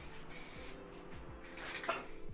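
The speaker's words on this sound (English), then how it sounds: "Next, a few layers of spray lacquer for protection." A soft hiss of an aerosol lacquer spray comes in short bursts, fairly quiet, alongside faint clicks and a low background hum.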